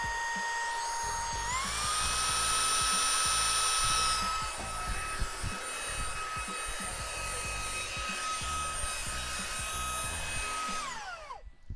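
A small handheld electric car vacuum whines loudly, its pitch rising as it spins up, holding steady, then winding down as it switches off.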